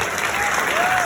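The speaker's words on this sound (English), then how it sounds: "Ladies and gentlemen, please give the Senator a big round of applause." Applause for Senator Tammy Duckworth fills the hall at the 2022 Committee 100 annual gala, a dense continuous wash of many hands clapping with crowd noise, loud and sustained throughout.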